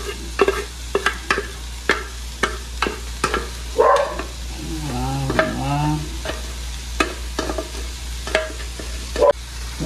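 Shredded chicken and onion being stirred in a pan, with repeated scraping strokes over a steady sizzle, close and fairly loud; one person speaks briefly near the start.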